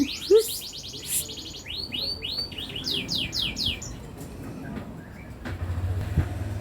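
Pet bird chirping in quick repeated bursts of bright rising notes, close and clear, fading out before a low steady hum takes over near the end.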